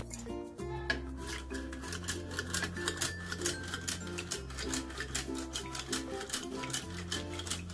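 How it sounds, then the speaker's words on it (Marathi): Thick yogurt is whisked with water in a bowl, making quick, rhythmic metallic clinks and taps that go on throughout, fairly soft, with background music underneath. "आपलं हे दही फेटून झालंय पाणी घालून"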